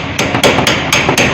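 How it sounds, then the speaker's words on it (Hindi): Repeated hammer blows on a screwdriver held against a part of a Suzuki Mehran car engine during repair, five sharp metallic strikes at an uneven pace, loud and close. "पेचकस रख के मारे, पेचकस रख के मार इसको।"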